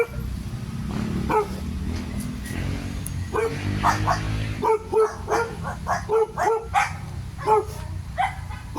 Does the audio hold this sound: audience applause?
no